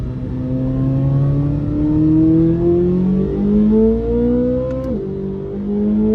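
A 2023 Corvette Z06 3LZ in Z mode accelerates hard through paddle-shifted gears, engine pitch climbing steadily, one sharp shift drop around five seconds, then rising again, loud and close.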